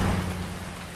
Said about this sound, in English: It's been raining ever since last farm night.